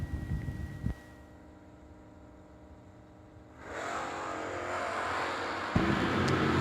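Drag-racing vehicles idle and then launch hard at about 3.6 seconds, a GMC Sonoma pickup and a Dodge at the New Year Nationals, rising into a loud, sustained full-throttle roar with another burst near the end.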